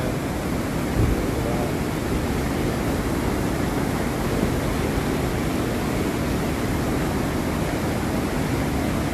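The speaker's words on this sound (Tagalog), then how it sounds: "Sobrang lakas ng baha, kaya hindi tayo nakatuloy." Strong floodwater rushes past in a steady, dense roar that stays loud and unbroken throughout, with no voices over it.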